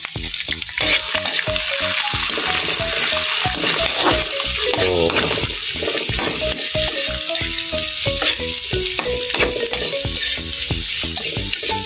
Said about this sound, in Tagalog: Ginigisa po ang bawang, sibuyas.